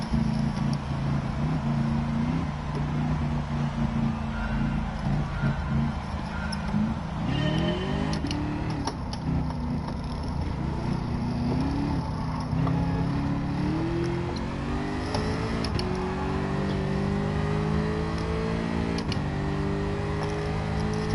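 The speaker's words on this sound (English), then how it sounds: "Engine noise in the air." A race car engine revs hard and sweeps up and down in pitch through repeated gear changes, loud and continuous from start to finish, with no voices over it.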